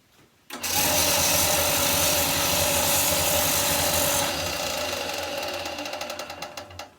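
Power sander or rotary tool grinding the end of a puppet arm rod: a sudden loud, dense whirring that starts abruptly, holds steady for several seconds, then fades with stuttering pulses as it winds down.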